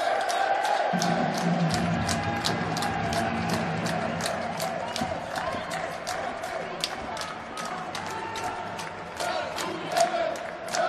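Fans at a Slovakia versus USA inline hockey match cheer and shout continuously as a steady crowd roar, with rhythmic clapping and drumming on top throughout.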